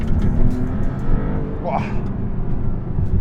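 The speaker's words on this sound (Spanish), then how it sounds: "El motor es una auténtica bestia." A Maserati MC20 GT2 Stradale engine roars steadily on a bumpy road, loud and constant under a man's brief exclamation.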